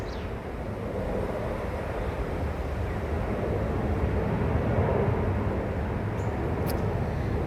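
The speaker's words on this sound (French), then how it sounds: "Bonjour les avions." Airplanes flying overhead, a steady broad roar that swells slightly and holds, distant but filling the scene, with no talking.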